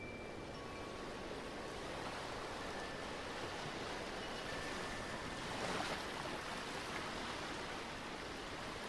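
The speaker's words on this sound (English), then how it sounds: "resting on the sand, watching the waves, and reflecting on your enchanting experience" Ocean waves wash steadily onto a sandy beach, a soft continuous surf hiss with a gentle swell near the end and no voices.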